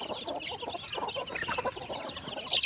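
A farm flock of crossbred hens and roosters of mixed ages clucks continuously in busy, overlapping calls, close and fairly loud, with no talking.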